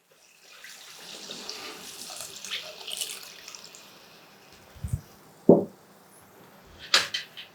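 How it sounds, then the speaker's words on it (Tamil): Water pours from a tap into a pot of egg kulambu, a soft steady stream for several seconds, followed by a few sharp clanks and knocks of the vessel. "தேவையான அளவு தண்ணி சேர்த்துக்கலாம்."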